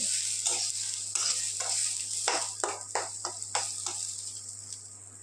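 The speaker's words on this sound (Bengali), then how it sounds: "সেজন্য আর কি ডালটা ভেজে নিচ্ছি ভালো করে" Mung dal dry-roasting in a pan for khichuri, a steady sizzle broken by repeated scraping stirs at an uneven rhythm, close and moderately loud, with a faint low hum running underneath.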